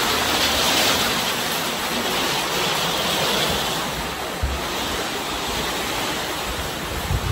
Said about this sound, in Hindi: बहुत तकड़ी तकड़ी बारिश हो गई है।